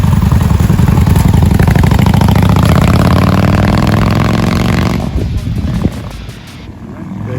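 A Honda Shadow 750 Spirit motorcycle engine runs loud and near with a rapid, throbbing idle pulse, easing and fading toward the end while voices talk over it.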